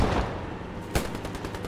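Gunfire in the World War II shooter Post Scriptum: a loud crack near the middle of a short stretch of dense battle noise, followed by faint repeated shots.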